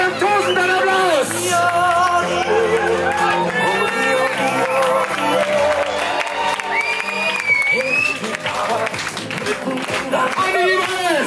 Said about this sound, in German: Herzlich willkommen mit einem tosenden Applaus.